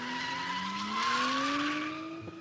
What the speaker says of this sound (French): c'est un sport qui consiste à faire de la glisse sur de l'asphalte avec des autos